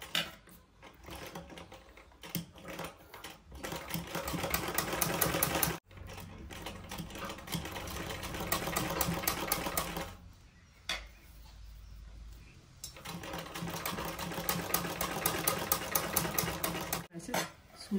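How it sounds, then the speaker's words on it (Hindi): A sewing machine stitches lace onto the edge of a dupatta, its mechanical whirring running in steady bursts with brief pauses and a longer stop partway through. No one speaks. "किनारे से होते हुए धीरे धीरे हम सिलाई आगे लेके आएंगे"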